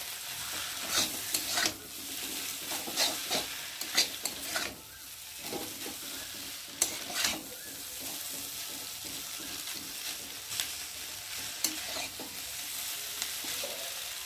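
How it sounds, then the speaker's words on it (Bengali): Chili chicken Maggi noodles tossed with Maggi masala in a pan: a spatula scrapes and stirs in irregular bursts over a continuous frying sizzle, close up and without speech. "এবার উপর দিয়ে দেবো ম্যাগি মশলা। দিয়ে ভালো করে নেড়ে দেবো।"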